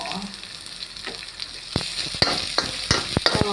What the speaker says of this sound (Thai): ผัดขึ้นหอมนะคะ